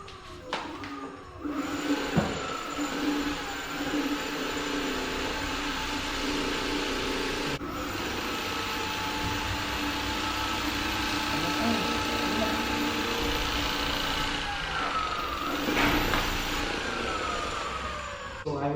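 A steady electric motor whine from a dual-motor Blade 10 electric scooter runs throughout, with pitch rising and falling, plus occasional clicks and rattles and brief speech.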